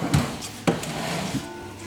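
A drawer under a woodshop sharpening bench, holding sharpening tools, waterstones and jigs, slides open or shut: two short knocks close together, then a quieter bump, over low room hum.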